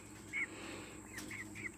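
Pet birds in a cage indoors give a few short, faint chirps scattered over a steady low background hum, with no voices.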